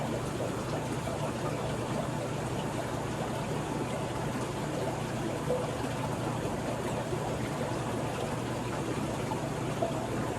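Steady water running from a garden hose held just above the ground during a cleanup, a continuous even trickling wash with no talk.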